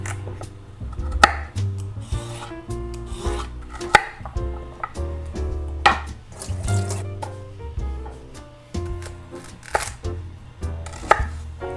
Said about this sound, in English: Now we have very specific instructions on how to cut this Kabocha squash.